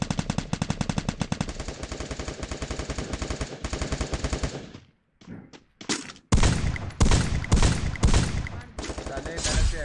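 Rapid automatic gunfire in the Garena Free Fire battle royale game, long bursts of close, loud shots in a fast steady rhythm, then a short pause followed by heavier separate bangs and more bursts.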